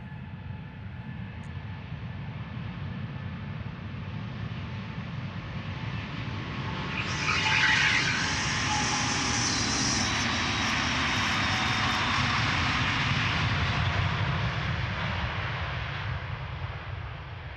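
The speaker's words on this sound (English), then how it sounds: "here we have Team USA, Airbus A330neo going to Minneapolis. Delta Airlines Flight 161." A Delta Air Lines Airbus A330neo in Team USA special livery departs Amsterdam Schiphol for Minneapolis, its engine roar loud and close, swelling steadily into a sustained, broad thunder that holds to the end.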